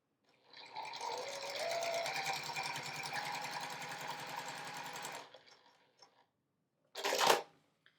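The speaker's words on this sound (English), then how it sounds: "So line it up in the corner and sew across both seams." A sewing machine stitches across quilt square seams in a sustained, even mechanical whir that runs for several seconds, then stops. A short sharp clatter follows.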